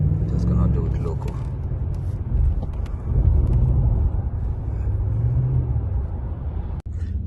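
Steady low road rumble and engine drone from inside a 2013 Ram 1500 pickup with a 5.7 L engine on a road test drive, continuous and fairly loud with no clear talk over it.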